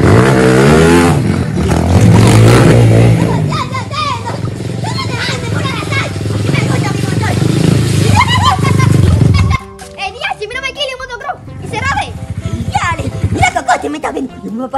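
A motocross motorcycle engine revs loudly and steadily, then cuts out; children's voices chatter and shout over the engine noise.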